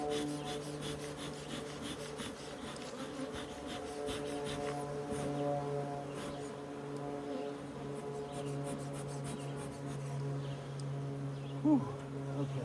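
Stirred-up honeybees buzz around an open hive during an inspection, a dense, steady drone close by with a few rubbing and scraping sounds of hive frames underneath.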